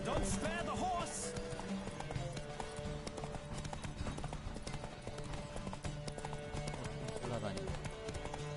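Horse hooves clip-clopping at a run in the video game The Witcher 3, a steady galloping rhythm that carries on throughout under game music and a man's speech.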